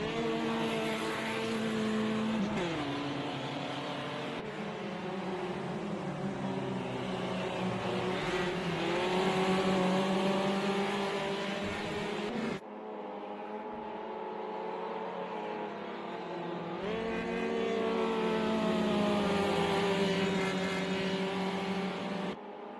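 Race car engines in a sim racing video game, a steady dense drone of several cars with shifting pitch bands, running loud and continuous with a short drop in level around the midpoint before resuming, no talk.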